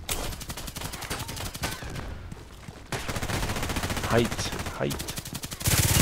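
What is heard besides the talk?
machine gun fire in the video game Contract Wars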